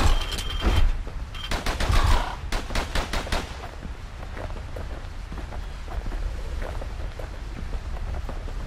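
Rapid enemy gunfire in the video game Bastion, a fast volley of sharp, loud shots over a booming rumble that eases into a steady, softer din of continuing shots and crackle.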